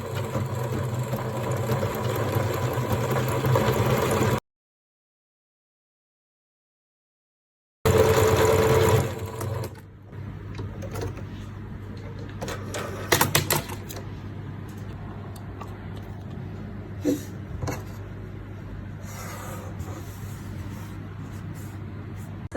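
A domestic sewing machine stitches straight along a raw fabric edge held against a metal guide, a steady close mechanical whirring hum that runs continuously with a brief stop, then resumes with small clicks.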